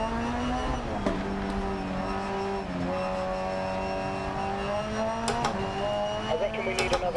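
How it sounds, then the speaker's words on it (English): Rally car engine in DiRT Rally 2.0, a sustained close engine drone with shifting pitch and gear changes, running continuously under a commentator's speech. "I've already learned the limits of this car, and now I'm testing them further"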